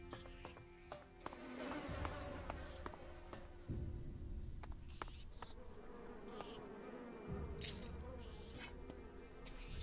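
Bees buzz in the open-world game ELEX, a steady droning hum of several insects close by, rising and falling slightly with faint clinks and other game sounds underneath.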